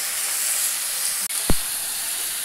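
Vegetables frying in a pan of oil, giving a continuous loud hiss and sizzle, briefly broken by a sharp clack and a short low thump, with no talking.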